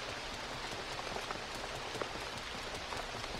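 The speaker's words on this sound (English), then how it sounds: "Just the rain and, you know." Steady rain from the video game Dreams on PS4, a dense, even hiss with scattered droplet ticks, continuous and fairly loud, with no talking.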